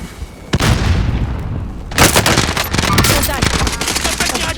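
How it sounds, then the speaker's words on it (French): Grenade blast and rapid gunfire in a multiplayer shooter video game: a heavy boom followed by dense bursts of automatic fire and crackling shots, loud and close. "Je lance une grenade."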